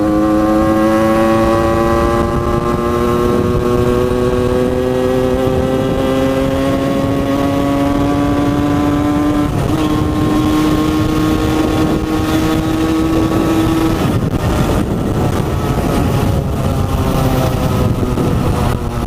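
A Derbi 70 moped with an Airsal kit and a 17.5 carburetor revs hard while riding, its two-stroke engine whining up through rising pitches across gear changes, loud and close under steady wind rush.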